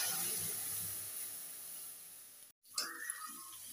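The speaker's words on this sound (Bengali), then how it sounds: "আর এখন ডালটা সম্বার করছি" Dal being tempered in a hot pan gives a steady soft hiss that cuts out abruptly for a moment, then returns with a brief burst of sputtering.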